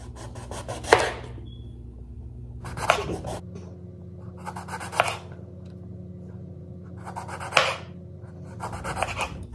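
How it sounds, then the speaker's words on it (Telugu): Knife chopping a large brinjal into rounds for bajji on a cutting board, five distinct bursts of firm slicing spaced a few seconds apart, close and clear over a steady low kitchen hum. "ఇలా తిన్నుగా కట్ చేసుకోవాలి బజ్జీకి కాబట్టి."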